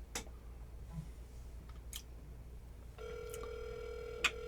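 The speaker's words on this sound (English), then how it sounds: "we're going to call Chuck Cannon out there at CJ Cannon's" Telephone call placed live on a radio show: a few faint clicks and dial taps, then a steady ringback tone begins midway and holds, with a sharp click near the end.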